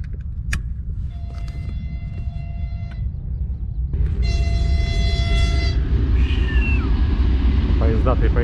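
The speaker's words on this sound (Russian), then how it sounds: "Поезда, три поезда." Three trains rumble past with a steady low roar, metallic squeals and tonal hums rising over it, growing louder midway through.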